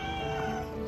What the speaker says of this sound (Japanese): 結局猫ちゃんは